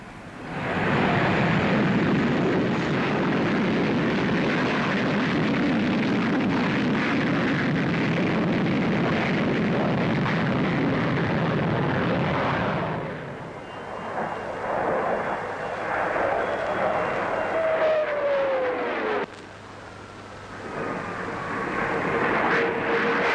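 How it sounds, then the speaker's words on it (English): Vickers Supermarine 510 experimental swept-wing jet at a 1949 air show, a loud sustained roar passing close for about thirteen seconds before easing into a quieter whine with a falling pitch glide and distant rumble. "the Vickers Supermarine 510, an experimental supersonic job"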